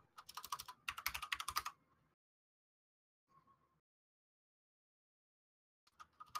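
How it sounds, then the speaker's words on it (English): Computer keyboard typing in short bursts, a dense flurry at the start, a brief tap in the middle and another burst at the end, close and fairly quiet with no talk. "Oh, you're typing it up?"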